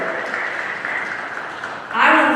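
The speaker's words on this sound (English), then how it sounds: "let's give a round of applause to our three captains for their work this year" Applause for the three team captains at a volleyball awards banquet, a steady clapping crowd that swells sharply louder near the end.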